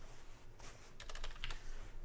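Fast typing on a computer keyboard while writing React code, with a steady run of close, crisp key clicks in quick bursts and no talking.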